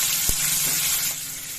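Onion and ginger frying in hot oil, a steady broadband sizzle with one sharp knock near the start, close and fairly loud with no voices.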